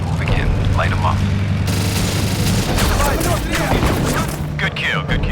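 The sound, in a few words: gunship cannon fire and explosions in a video game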